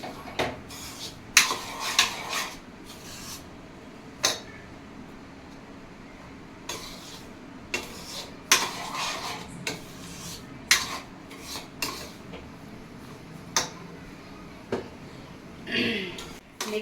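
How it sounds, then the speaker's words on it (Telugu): Bombay rava (semolina) roasted dry in a pan, stirred with a spoon that scrapes and clinks against the metal in irregular bursts, close, with gaps of quiet in between. "దీనిలోనికి మనము ఈ బొంబాయి రవ్వను వేసి బాగా వేయించుకోవాలండి వాసన వచ్చేంత వరకు వేయించుకోవాలి"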